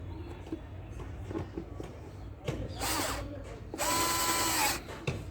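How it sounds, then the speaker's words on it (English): A screw is driven into the air filter cover of a Bajaj Avenger motorcycle with a whirring powered driver or ratcheting tool. Two short mechanical bursts, the second longer, sound close after quieter handling clicks. "And one last screw we have to put here carefully."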